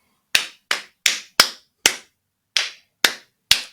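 Eight sharp hand claps ring out alone, spaced unevenly about half a second apart, each loud and crisp with a quick decay, in a quiet room during a guided reflection session.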